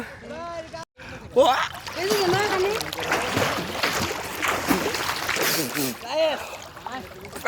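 Splashing water as people swim across a river, continuous sloshing and churning close by, with shouting voices throughout.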